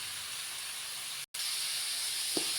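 Chopped snake gourd sizzles in a hot pan while a Kerala-style theeyal is cooked, giving a steady close hiss that cuts out for a moment midway and then resumes.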